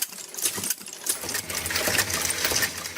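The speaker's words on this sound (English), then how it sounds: "The cartridges are clamped and pass through a machine with many tubes, which inserts the primer, powder, and bullet into the cartridge." An ammunition machine inserts primer, powder and bullets into clamped cartridges with a busy, rapid mechanical clatter of clicks and metallic ticks.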